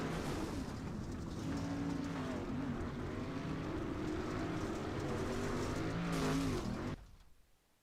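A race car roars around a dirt track with a jump at an All-Star Intermission Series event. The engine drones loud and steady with pitch swells as it revs, then cuts off abruptly at the end.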